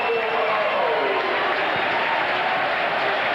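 A football crowd at a 1998 Shelbourne v Rangers match roars continuously as fans spill onto the field, a dense, loud, unbroken wall of cheering, with a commentator likely talking over it.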